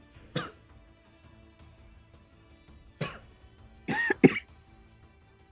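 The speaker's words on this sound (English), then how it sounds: "Sorry about the coughing." A few separate coughs and throat clears from one nearby person during a tabletop game session, sharp isolated bursts with quiet gaps between and a double cough near the end.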